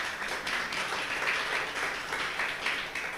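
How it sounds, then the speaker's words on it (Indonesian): A church congregation at a Sunday worship service claps together in steady, continuous applause, fairly loud and filling the room, with no break. "Tepuk tangan untuk Tuhan"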